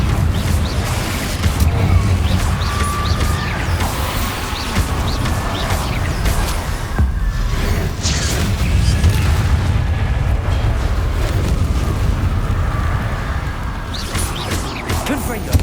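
Confringo blasting curses bursting in Hogwarts Legacy, a steady barrage of loud, booming fiery explosions and crashes throughout, with combat noise layered over them.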